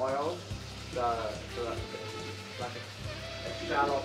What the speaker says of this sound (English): like a shallow frying method.